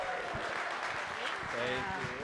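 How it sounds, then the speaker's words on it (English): An audience at a sober open mic night claps for the MC coming to the stage, a steady, moderately loud patter of many hands while a voice talks over it. "Give a round of applause for Abby Alt,"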